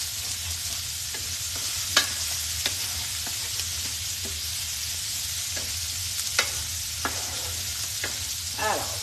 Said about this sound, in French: vais faire revenir l'oignon doucement, juste le colorer un peu